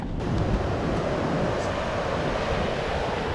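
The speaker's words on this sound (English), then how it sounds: "Oh, the waves are pretty big over there." Big ocean waves breaking at a beach in Mexico, a continuous roaring surf rumble mixed with wind buffeting the microphone, steady and loud throughout with no talking.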